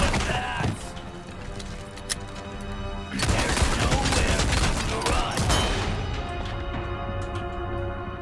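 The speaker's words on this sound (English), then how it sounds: "Well placed flashbang" A flashbang goes off in Resident Evil 4 Remake, with a sharp burst and then a dense, loud crackling wash of blast noise and debris that lasts several seconds, mixed with game effects.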